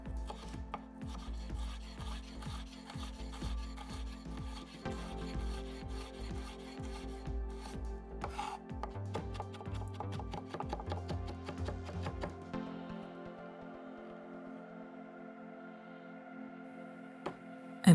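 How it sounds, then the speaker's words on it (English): A knife mincing ginger on a cutting board, rapid repeated taps and scraping strokes close up for most of the stretch, easing off near the end before one final knock. "And I'm mincing up a couple of teaspoons of ginger."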